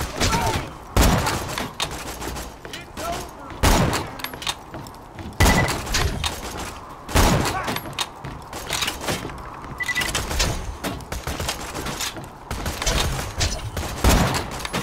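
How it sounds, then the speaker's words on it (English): Video game gunfire in Borderlands 2 plays as loud, sharp shots in irregular bursts and single cracks throughout, with clattering and mechanical noises between them. "Someone's shooting at me."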